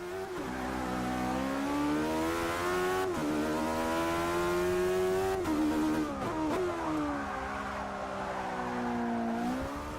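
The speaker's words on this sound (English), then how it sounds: "The Caparo T1 is a track focused car with 575 brake horsepower and 310 pounds-foot of torque." Caparo T1 track car in Forza Motorsport 6, a 575-horsepower lightweight racer, its engine droning loud and steady at high revs with brief dips and rises between gear changes, heard close and alone.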